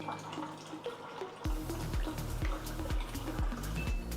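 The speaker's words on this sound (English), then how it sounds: "so I mix hot water with cold." Water splashes and gurgles into a cup as hot and cold water are poured and mixed, a close, steady pour with repeated glugging pulses and no talk.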